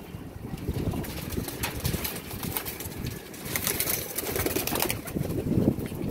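A released pigeon beats its wings in a close, fluttering rush of flapping that lasts throughout, with rough, uneven bursts of wingbeats.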